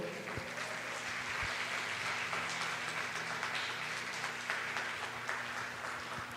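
A church congregation applauds steadily during a sermon, a dense wash of clapping that holds at an even level from start to finish.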